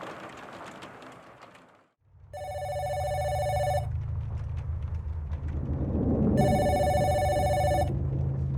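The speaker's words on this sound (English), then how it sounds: "Oh, the phone is ringing. I should answer that." An old-style telephone bell rings in two bursts in the indie narrative horror game Ancra, trilling brightly over a low ambient rumble and soft rain-like hiss, with no voices.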